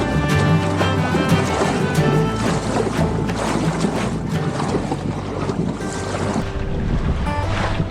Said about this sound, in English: really choppy, wind's picked up.